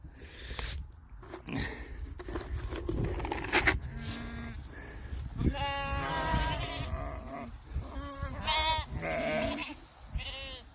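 Sheep and goats bleat repeatedly in a livestock shed on a working farm, several wavering calls overlapping at close range amid shuffling animal noise.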